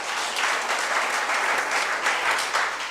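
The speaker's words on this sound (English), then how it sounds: "So we have to give him another big round of applause." An audience at a Sangeetha Sabha music concert in Udupi breaks into sustained, even applause: a dense wash of many hands clapping for a few seconds without letup.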